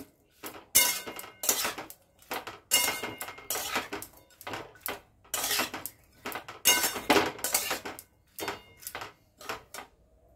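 Raw fish goes into a cooking pan with garlic paste amid a run of sharp metallic clatters and clinks of utensils against the pan, close and irregular.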